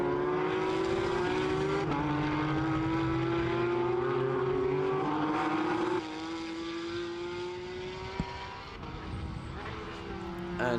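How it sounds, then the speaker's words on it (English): Porsche race cars circling the Autodromo Internacional do Algarve in Portimao during a Porsche Sports Cup Suisse race, engines whining and rising in pitch as they pass, loud and continuous, heard from a trackside commentary box. "the exhaust note from where I am at the moment"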